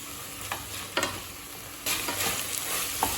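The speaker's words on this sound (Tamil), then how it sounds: "காய்கறி எல்லாத்தையும் ஒரு 2 நிமிஷம் வரைக்கும் நல்லா வதக்கிக்கோங்க" Mixed vegetables sautéing in a pan with oil, a steady frying sizzle under repeated spatula scrapes and stirring strokes, close and moderately loud.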